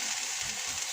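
Apple pieces, Granny Smiths among them, fry in melted butter with a soft, even sizzle that keeps on for a moment, close by and fairly quiet.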